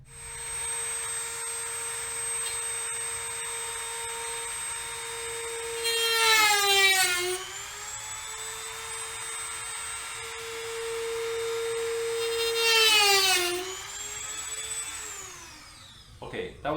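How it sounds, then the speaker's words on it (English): A Dremel rotary tool with a cutting disc slices through model railroad track, a loud steady high-pitched whine that twice bogs down and rises in pitch as the disc bites, then spins down near the end. "I could say time to cut the track, but Dremel sounds more Tim Allen worthy. So, time to Dremel."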